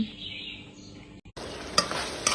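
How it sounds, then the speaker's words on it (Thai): Bamboo shoots are stir-fried with southern Thai curry paste. A quieter hum gives way to a bright, loud sizzle after a short gap, with a couple of sharp spatula scrapes against the pan. "ผัดหน่อไม้ใส่เครื่องแกงใต้"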